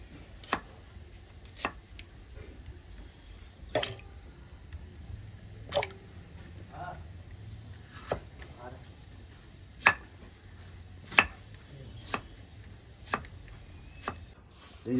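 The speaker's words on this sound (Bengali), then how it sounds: "মূলোটা বেশ আমি চাক চাক করে কেটে নেব।" A knife chopping a radish into chunks on a board, sharp separate thuds at an unhurried, roughly even pace, close by and clear over quiet kitchen background.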